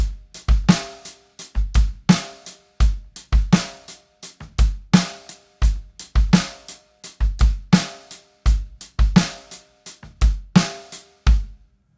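Basic drum groove on a kit, eighth-note hi-hats with kick and snare, played alone in a steady repeating pattern of sharp, close hits, loud and dry.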